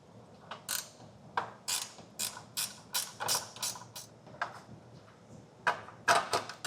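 A ratchet loosens the 10mm nut holding the horn on a 2016 Jeep, with quick bursts of clicking strokes repeated at a steady pace, close and fairly quiet, with no voice.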